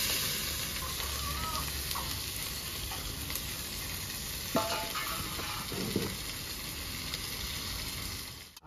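Chopped onions fry in hot oil with bay leaves, dried red chilli and whole cumin for a light fish curry, giving a steady, close sizzle with a few stirring knocks.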